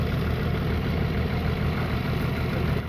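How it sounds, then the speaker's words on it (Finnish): A turbocharged off-road vehicle engine drones steadily and fairly loudly in a continuous rumble with no clear rise or fall, and nobody speaks. "Siellä viheltää joku vähän isompi turbo jossakin."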